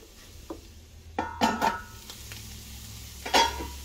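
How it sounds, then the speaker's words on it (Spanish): Meat for tacos de alambre stews in a pan, giving a quiet, steady sizzle under a few sharp metallic scrapes and clanks of a utensil against the pan. "vamos a esperar que se guise y que se termine de guisar la carne"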